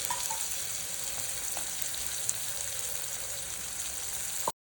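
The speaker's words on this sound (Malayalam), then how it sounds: "അപ്പം ഞാൻ ഈ ഉണക്കമീൻ ഒന്ന് വറുത്തെടുക്കാൻ ഇട്ടേക്കാണ് കേട്ടോ" Dried fish frying in hot oil, a steady close hiss and crackle of sizzling that holds evenly throughout with a few small pops, then cuts off abruptly at the end.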